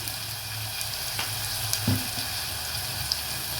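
Sliced onions and green chillies frying in a pan, giving a steady soft sizzle with a few faint stirring clicks and no voices.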